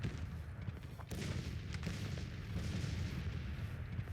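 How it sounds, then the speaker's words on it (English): Enemy cannon fire in Grand Tactician: The Civil War, a dense rumbling barrage of distant booms overlapping continuously, low and muffled with no clear pauses. "That's a lot of enemy cannons."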